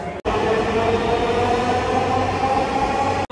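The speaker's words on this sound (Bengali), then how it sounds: "আমরা ঢুকলাম এখনই, আর একটা মেট্রো বেরিয়ে গেল" A Dhaka Metro Rail train pulling out of a station, a loud, steady rumbling drone with a whining electric motor tone that carries on without a break for several seconds, heard close by from the platform area.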